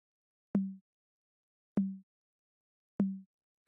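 Three dry, punchy conga-style drum hits, evenly spaced about a second and a quarter apart, from an Afrobeat beat programmed in FL Studio 12 with the hardcore layer removed, each a short low thump alone in silence.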